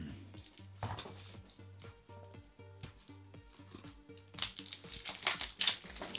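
Plastic wrapping on a packet of game cards from a tabletop wargame set crinkles and rustles close by, in scattered bursts that grow louder and busier toward the end.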